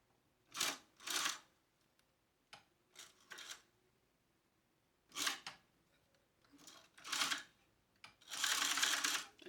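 A sewing machine topstitches a wallet in several short bursts of rapid whirring, each lasting about a second, separated by quiet pauses, with a longer run at the end.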